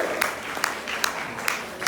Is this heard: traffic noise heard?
no